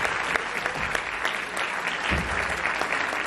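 Audience applause for a live orchestra at a televised anniversary celebration concert, steady dense clapping filling the room without a break for the whole stretch.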